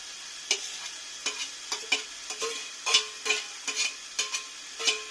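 Fried onions and spice paste fry in oil for a rupchanda fish curry, with soft sizzling as a utensil repeatedly scrapes and stirs the pan, producing a steady series of brisk scraping strokes.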